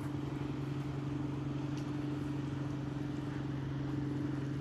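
Motorboat on Lake Sidney Lanier in Georgia, a steady engine drone humming at an even level under faint lakeside ambience, with no talk.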